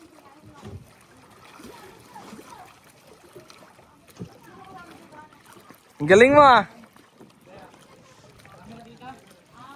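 People chat over a faint watery background while a boat moves; a brief loud burst of splashing or engine noise cuts in midway.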